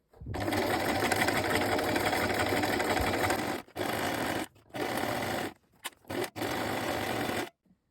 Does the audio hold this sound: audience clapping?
no